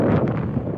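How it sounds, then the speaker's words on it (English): Strong wind gusting across a microphone at an airfield in North Las Vegas before a Cirrus SR22 flight, a dense, steady low roar with brief surges, close and loud with no talk. "It is very windy here."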